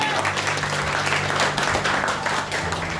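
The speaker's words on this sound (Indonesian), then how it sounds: "Berikan tepuk tangan buat Allah" A large crowd at a Christmas church service claps loudly and continuously, with cheering voices mixed into the dense applause.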